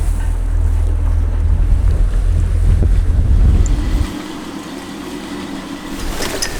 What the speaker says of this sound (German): Wir haben sehr viel Wind.